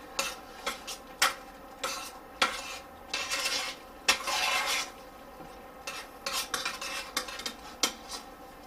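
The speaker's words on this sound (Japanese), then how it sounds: "焦げないようにかき混ぜてかき混ぜ続ける必要がありますね。" Jam being stirred in a pot to keep it from burning: a spoon scrapes and knocks against the pot in an irregular, steady rhythm of taps and rubbing strokes, quiet and close.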